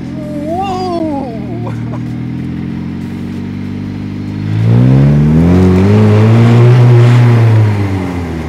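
DF Goblin kit car engine revving at about half throttle, a loud close growl that climbs and swells in pitch, then holds a strong roaring rev, with brief voices heard near the start.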